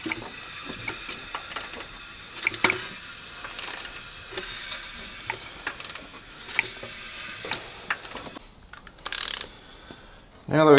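A hand ratchet cranks over a Dodge Charger engine, giving a quiet series of clicking pawl strokes with faint mechanical rattles and pauses, and a louder clatter near the end.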